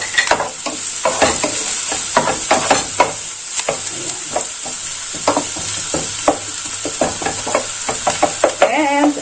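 Garlic sizzles steadily in a new frying pan, with repeated scraping stirs and light knocks of the utensil standing out over the continuous hiss, close and fairly loud, no talking.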